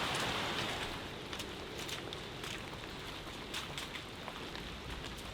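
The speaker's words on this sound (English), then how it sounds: "look at how the water is just beating on this waxy leaf" Heavy rain beats steadily on a waxy leaf on a Kauai hiking trail, a dense close patter with scattered louder drops and no voices.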